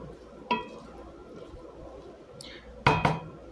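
Pancit bihon ingredients tossed together in a cooking pot, with a sharp utensil clack near the start and a louder cluster of metallic clinks toward the end over a low kitchen hum.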